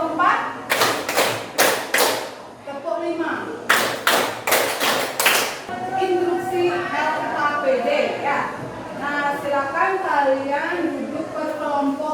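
Classroom ice-breaking game of counted hand claps: a crisp group of four claps, a pause, then a quicker burst of five, followed by children's voices talking and calling out over the room.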